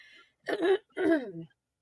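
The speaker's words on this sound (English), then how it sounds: "My eye might be watering now because I got to coughing." Two short bursts of throat clearing and coughing, close and distinct, separated by a brief pause, with faint sound before them.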